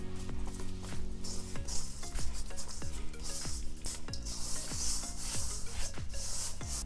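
A batter of eggs, flour, sugar and baking powder is stirred for an apple cobbler, making a steady rubbing, scraping sound with regular strokes about twice a second, close and continuous with no talking.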